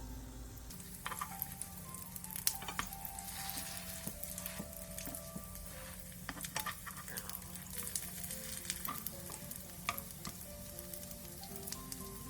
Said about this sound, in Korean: 팬에 계란물을 묻힌 호박을 올려준 뒤 중약불에서 앞뒤로 노릇노릇하게 붙여주세요.